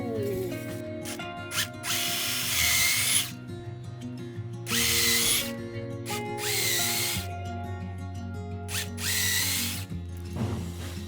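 A power drill drives stainless steel screws into Japanese cypress deck boards on a veranda, in several loud whirring bursts of a second or two each, separated by short pauses and low background sound.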